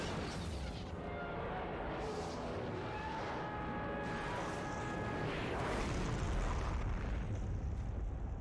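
Battle explosions in the World War II strategy game Company of Heroes, set in Normandy, including a flash grenade blast. A loud, dense roar of booms and rumbling fire continues without a break, and no one speaks.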